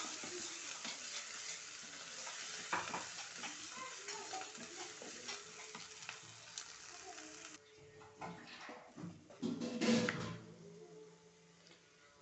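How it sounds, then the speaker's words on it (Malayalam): Paneer butter kurma masala fries in oil as it is stirred until the oil separates: a low, continuous sizzle with irregular scraping and sloshing strokes, fairly quiet, with faint voices in the background. "എണ്ണ തെളിയുന്നവർക്ക് ഒന്ന് നമ്മൾ ഇളക്കി വെക്കൊണ്ടിരിക്കണം."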